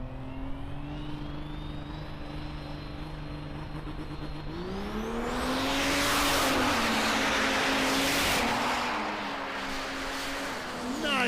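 A diesel drag-racing truck from Up in Smoke Diesel launches down the strip, its engine note rising from a steady drone into a roaring, smoky full-throttle pull, loud at first and then fading.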